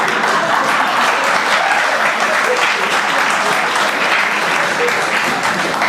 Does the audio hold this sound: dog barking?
no